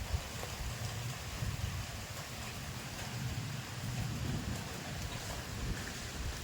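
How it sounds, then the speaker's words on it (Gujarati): Steady rain pours down throughout, a dense continuous hiss with a low rumble underneath, like a thunderstorm in progress; no talking. "ગાજે છે ને જોરદાર વરસાદ ગાજે અત્યારે હમણાં અવાજ આવશે જોજો"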